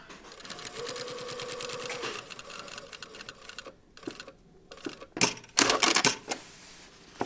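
A sewing machine runs in a rapid, even stitching burst while understitching facing fabric on an exposed zipper pocket. It then stops and gives way to irregular clicks and handling noises of the fabric and machine.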